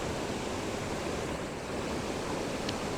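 Steady, full roar of the Baptism River waterfall at Tettegouche, continuous broadband rushing water close by with no letup and no voices.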